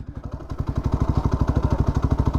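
Zontes 125 motorcycle engine starting and settling into a steady, rhythmic idle, close by, with evenly spaced exhaust pulses.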